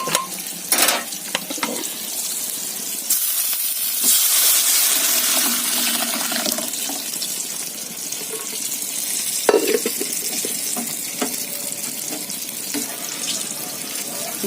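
Lentil dal tempered with fried onion and black cumin, a loud close sizzling hiss that flares and fades over several seconds, with scattered clinks and splashy bursts along the way.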